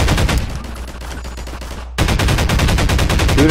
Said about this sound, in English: Someone's up there shooting.